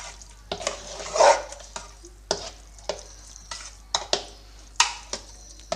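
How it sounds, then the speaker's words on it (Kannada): Sweet curd is stirred into rice payasam in a pot, giving a series of close, distinct wet scrapes and clinks of a spoon against the vessel at an irregular stirring rhythm, with no talking. "ಇವಾಗ ಮತ್ತೆ ಚೆನ್ನಾಗಿ ಮಿಕ್ಸ್ ಮಾಡ್ಕೊಳ್ತೀನಿ"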